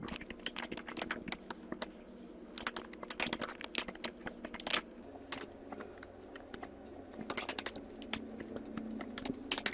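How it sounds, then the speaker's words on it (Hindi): Rapid typing on a computer keyboard during a Hindi typing lesson, a dense, steady stream of close, sharp key clicks lasting several seconds, alone with no voices. "तो चलिए एक बार और हम फास्टली टाइप करके देख लेते हैं।"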